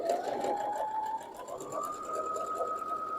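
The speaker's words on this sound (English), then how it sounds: "Then I lower my foot to keep sewing." A sewing machine stitches a nine patch quilt block, running as a steady, continuous hum with a faint rising whine throughout, close and alone with no talking.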